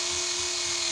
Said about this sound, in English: I got a little wire wheel on a drill here